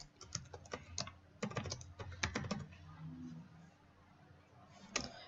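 Login password typed on a computer keyboard for a Windows Server lab: quick bursts of close, crisp key clicks in irregular clusters, then a pause and a final isolated keystroke.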